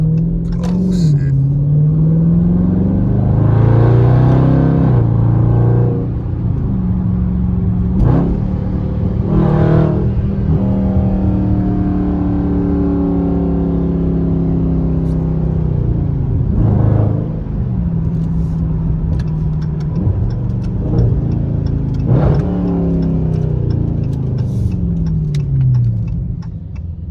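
A 2020 Dodge Charger Scatpack widebody driven hard on wet roads with traction control off: a deep V8 rumble revs up and down repeatedly through gear changes, loud and close, with occasional talk over it.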